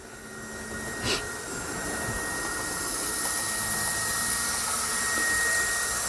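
A lux-modellbau model railway vacuum cleaning wagon runs with a steady, fairly quiet whir that holds evenly throughout, and one brief sharp tick sounds near the start. No one speaks.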